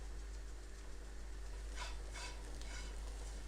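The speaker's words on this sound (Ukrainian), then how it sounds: "І хай також просмажується." Vegetables with spices frying and being stirred in a pan for broccoli soup, a steady low sizzle throughout with a few brief louder scraping stirs near the end.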